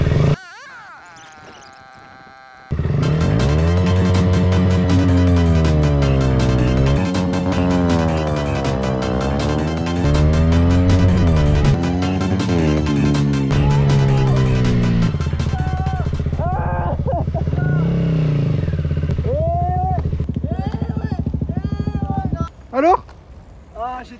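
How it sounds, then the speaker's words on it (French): A motorcycle engine revs hard in a race against a BMX rider, a loud rising and falling whine that holds for several seconds and then drops away, while people talk near the end. "elle fait trop de bruit la moto."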